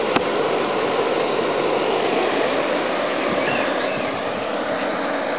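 An air conditioner working hard, humming loudly and steadily with a constant mechanical drone and no pauses.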